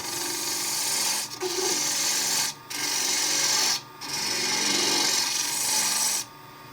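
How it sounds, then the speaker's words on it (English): A wood-turning gouge cuts across the end grain of a spinning bowl blank on a lathe, a steady broadband rasping scrape in long passes broken by four brief pauses where the tool lifts away. It is loud and close, with no talk. "going like this is a hard job on your gouge, because you're cutting all that end grain"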